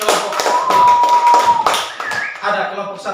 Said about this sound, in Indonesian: mari kita tepuk tangan dulu untuk kelompok